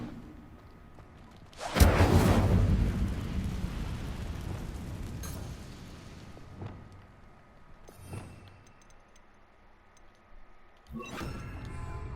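Incendio fire spell cast in Hogwarts Legacy: a sudden loud whooshing burst that fades slowly over a few seconds, followed by quieter scattered thuds and crackles.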